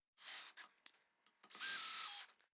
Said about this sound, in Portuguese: Então vamos parafusar isso.